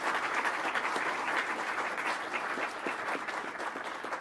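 A conference audience gives a round of applause for Steve Gale and the attendees; steady, moderately distant clapping fills the room with no voices over it.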